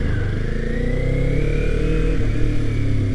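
Kawasaki Ninja 400 on the move, its engine a loud, close, sustained whine that climbs smoothly in pitch, dips as the rider shifts, then builds again over wind rush.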